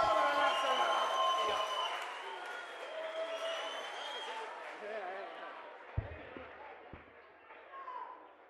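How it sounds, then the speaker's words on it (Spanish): A live concert crowd applauds a violinist, a broad wash of clapping and cheering with a few whoops, steady and fairly distant, tapering off with a couple of sharp knocks near the end. "Un fuerte aplauso"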